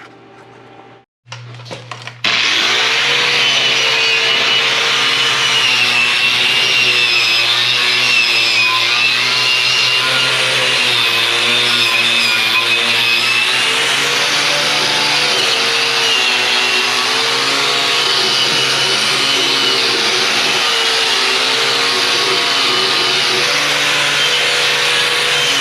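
A power tool scours rust off gooseneck trailer legs: after a few short starts it settles into a loud, steady, close grinding whine that runs unbroken for over twenty seconds.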